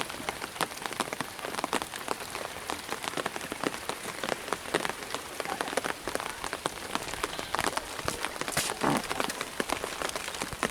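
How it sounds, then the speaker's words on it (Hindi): Steady rain falls on a footpath leading to the Baijnath temple near Kausani, Uttarakhand, a dense, even patter of drops on surfaces that continues without pause and with no voices. "अभी भी बारिश रुकी नहीं है"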